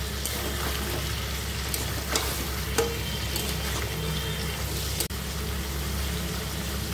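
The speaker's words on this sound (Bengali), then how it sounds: "চিংড়ি মাছগুলো রং চেঞ্জ হওয়া অবধি ভেজে নেব।" Prawns seasoned with salt and turmeric fry in a pan, a close, continuous sizzle with occasional stirring clicks and one sharp knock, steady and without talk.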